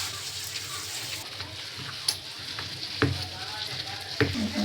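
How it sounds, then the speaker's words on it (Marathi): A rice flour bhakri cooks on a frying pan, giving a steady frying sizzle with a few sharp pops and clatters, moderately loud, with no talk over it. "फ्राय पॅनवर करते आज भाकरी."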